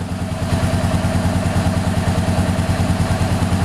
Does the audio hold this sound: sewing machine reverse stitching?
no